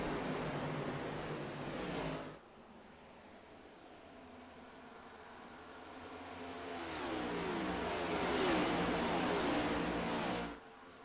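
Race car engines at Nashville in an ISRL sim racing league event, a loud, steady engine drone that drops away, then swells again as cars pass close by before cutting off abruptly.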